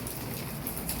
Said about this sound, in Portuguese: Tem umas gotas de chuva aqui.